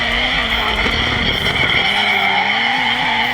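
Tires squeal loudly and continuously as a car slides sideways through a drift at Ebisu circuit, the engine droning beneath the screech for a few seconds.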